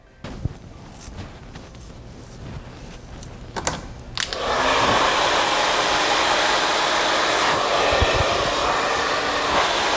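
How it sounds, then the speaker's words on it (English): A hair dryer switches on partway through and roars steadily, loud and close, after a few seconds of quieter rustling and clicks. "You want to keep the blow dryer moving and you want to keep the brush moving."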